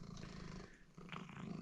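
A cat purrs softly and steadily up close, a low continuous rumble with a brief dip partway through.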